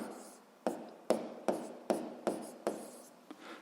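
A pen on paper draws short lines in a row, six or seven crisp strokes at a steady pace, close and quiet in an otherwise still room.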